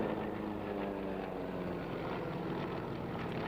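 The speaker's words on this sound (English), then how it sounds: "Run in and brake is the classic manoeuvre for separating aircraft that have been in formation before they land." Military piston warbirds such as a P-47 Thunderbolt, Hellcat and Wildcat making a run in and break at a British airshow, a steady, loud, broad engine roar sustained throughout without speech.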